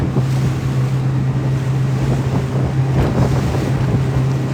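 Strong wind buffets a lobster fishing boat at sea, a loud steady rush and roar with a low engine hum underneath, continuous throughout.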